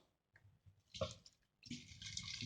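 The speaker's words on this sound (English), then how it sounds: "just add some water into this paste" Water is poured into a mashed palm fruit paste for making palm oil, faint splashing and dripping close by in short bursts, ending in a longer trickling pour.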